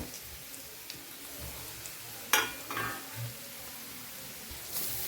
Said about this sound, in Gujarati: હવે આપણે જે ઘી બચ્યું છે ને એની અંદર આપણે આ ગાજરને સાતળી લેવાના છે.